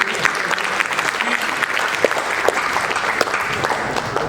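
Audience applause at a Hindi comedy poetry laughter show, steady dense clapping throughout with scattered sharper claps, fairly close and loud with no talk over it.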